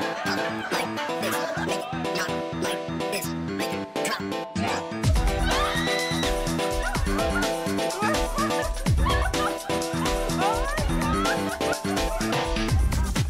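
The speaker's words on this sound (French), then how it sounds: "Le chien déteste le ballon gonflable Père Noël." A dog barks repeatedly and excitedly at an inflatable Santa over steady background music, with short yips and whimpers between the louder barks.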